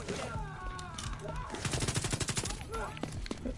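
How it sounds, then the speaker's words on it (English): Enemy gunfire in the shooter game Tom Clancy's The Division 2, rapid bursts of automatic shots over chaotic game noise, with a person talking excitedly between and over them. "he's shooting freaking incendiary grenades"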